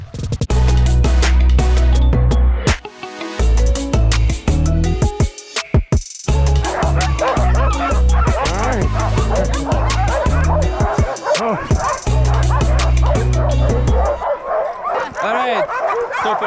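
Sled dogs barking and yipping excitedly at a dogsledding outing, a dense, continuous chorus of loud, overlapping barks, yips and whines from several dogs close by, with brief lulls before the clamour resumes.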